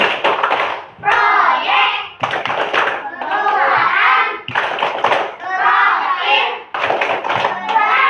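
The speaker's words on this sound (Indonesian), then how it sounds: "kita tepuk P5 dulu ya biar semangat" Children in an Indonesian primary classroom clap in a rhythmic P5 chant, sharp bursts of hand claps alternating with loud group chanting voices in a steady repeating pattern.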